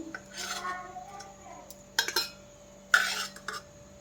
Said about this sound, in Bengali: সব ডিমগুলো এক এক করে টিফিনের মধ্যে দিয়ে দিচ্ছি।